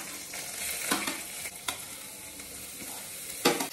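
Cut vegetables sizzle as they fry in oil with cumin and fennel, a steady soft crackle broken by a few louder stirring scrapes and pops, with no talk.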